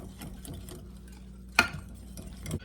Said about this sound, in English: And we'll mix this up real good.